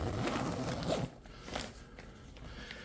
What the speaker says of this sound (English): I'm gonna zip this up so it doesn't spill out.